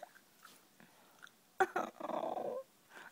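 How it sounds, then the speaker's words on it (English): A dog growls in a few rough bursts close by, a short low rumble followed by a longer sustained growl, with quiet household sounds before it and no talking. "Dog."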